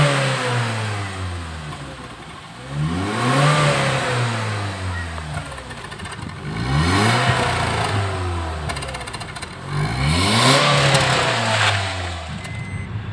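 The engine of a 2014 Honda Brio automatic, just back from a complete carbon clean after feeling sluggish and weak, revs up hard three times, rising and falling in pitch, close and loud.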